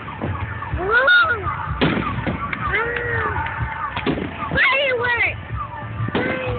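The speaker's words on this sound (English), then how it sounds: "Fireworks!" Fourth of July fireworks at the Pasadena Convention Center in Pasadena, Texas: several sharp booming bursts and whistling rockets, mixed with excited voices and exclamations from nearby spectators.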